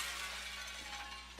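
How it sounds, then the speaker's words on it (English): Small debris pieces in the video game Gravia shatter as they land, giving a continuous glassy crumbling and clinking texture that runs steadily through the moment at a fairly quiet level, with no talk. "they shatter when they land."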